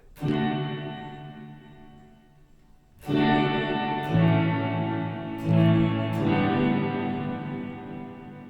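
Sustained guitar chords ringing through a Strymon blueSky reverb pedal set to maximum low frequency, deep and bass-heavy, each strum swelling and decaying into a long, boomy tail.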